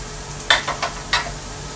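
Vegetables stir-fried in a pan give a few short scraping, sizzling strokes, three or four quick bursts over a low steady background hiss, close and moderately loud.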